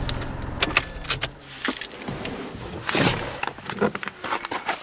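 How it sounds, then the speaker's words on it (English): Car sounds inside a 2018 Mitsubishi Mirage as it is shut off and the driver gets out: a few sharp clicks and clunks, a rustle of movement, and a door-like thump near the middle, all close and fairly quiet. "Let me go ahead and hop out. I'll shut the car off"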